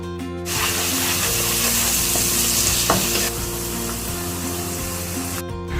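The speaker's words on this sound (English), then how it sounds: "Saute it well and add 2 onions sliced." Ginger garlic paste and sliced onions sautéed in hot oil for a mutton potato curry, giving a loud, steady sizzle and fry that carries on throughout, with the occasional stir.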